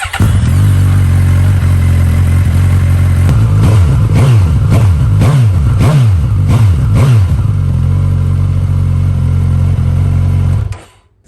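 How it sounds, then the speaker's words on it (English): A Suzuki GSX-S1000 motorcycle on its standard exhaust idles loudly up close, then is blipped in a quick series of about six sharp revs before settling back to a steady idle and cutting off. "you should probably hear what it sounds like as standard before we put the Yoshi on"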